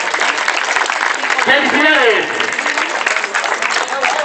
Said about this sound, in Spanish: ¿Cómo es ese caluroso aplauso?